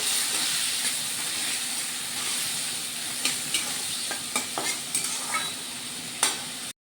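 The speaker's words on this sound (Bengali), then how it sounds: "আমাদের চিংড়ি মাছ ভাজা হচ্ছে" Shrimp fry in a little hot oil, giving a steady loud sizzle and hiss broken by several sharp scraping clicks as a spatula stirs the pan, with no voices.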